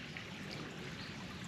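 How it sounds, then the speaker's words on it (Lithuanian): A small stream babbles and trickles nearby in a quiet outdoor setting, a faint, steady wash of running water with no other sounds. "šalia čiurlena nuostabaus grožio upelis"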